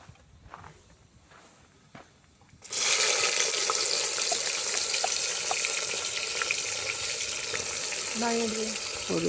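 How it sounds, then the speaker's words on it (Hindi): Tomato and onion dropped into hot oil for a tadka at a campsite, a loud sudden sizzle that keeps frying steadily with a few faint clinks near the end. "और ये तड़का लगा दिया हमने टमाटर प्याज का"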